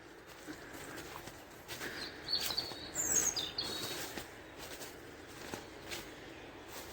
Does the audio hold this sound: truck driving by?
no